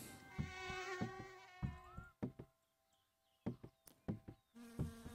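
Wasp buzzing in My Summer Car, a thin steady whine that rises and falls in short bursts amid sharp knocks and thuds, with quiet gaps between.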